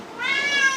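A single short, clear cat meow rises and holds briefly, close and moderately loud with no talk around it.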